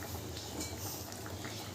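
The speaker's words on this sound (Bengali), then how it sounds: "মাছের ঝোলটা ফুটিয়ে নিয়েছি গ্যাসটা মিডিয়াম ফ্লেমে রেখে" Hilsa fish curry broth simmers in a pot over a medium gas flame, a soft, steady bubbling and gentle hiss, continuous and fairly quiet with no voices.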